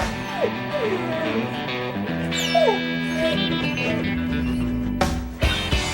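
Dogs at a house whimper and whine in rising, sliding cries over a steady hum, with a few short yips and a sharper bark-like burst near the end, close and fairly loud.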